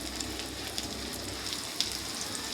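Ginger paste frying with onions in a pan while cooking greens, producing a steady, moderate crackling sizzle with scattered small pops and no talk.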